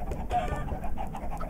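Minecraft chickens clucking on a farm beside sugar cane and pumpkins: a steady stream of short, mid-pitched clucks, moderately close and alone, with no talk.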